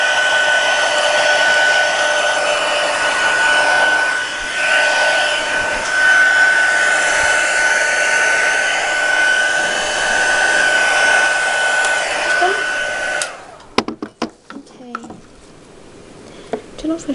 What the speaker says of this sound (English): what I'm going to do is just quickly put my heat gun on.